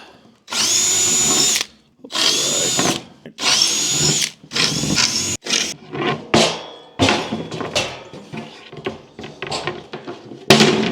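A power drill whirs in repeated bursts as it bores holes into a wooden sled, followed by a series of shorter drilling runs and clattering, close up.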